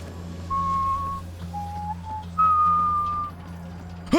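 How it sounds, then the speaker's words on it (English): Whistling from the video game Warframe plays as three clear, sustained whistled notes separated by short pauses, sounding over a low steady background hum. "Isn't that the same whistling the Drifter does?"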